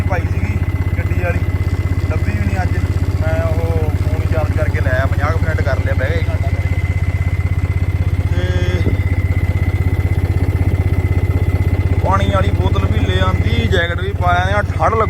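A tractor engine pulling a plough chugs steadily close by, a constant low throb, while someone talks over it.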